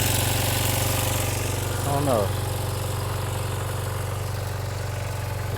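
A 2006 Kawasaki Ninja 250 motorcycle idles steadily while warming up, a possible exhaust leak adding to its constant low, even drone; someone speaks briefly over the running engine.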